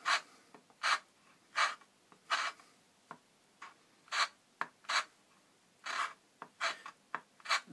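A Rulon bearing surface being scraped by hand gives about a dozen short, soft rasping strokes in an uneven rhythm, close by and quiet, with brief pauses between them.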